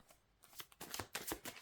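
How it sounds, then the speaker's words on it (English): Tarot deck being shuffled by hand, a run of soft papery riffles and slaps in quick uneven bursts, close and fairly quiet with no talking. "let's shuffle the cards and see what are the messages that this full moon wants to reveal to you"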